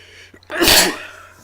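A single loud, sharp sneeze bursts out alone at close range, with a brief intake just before it, during a tabletop card game.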